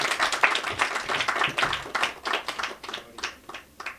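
Applause for Ravi at a mythological movie trailer launch, a modest burst of hand claps that thins into scattered individual claps toward the end.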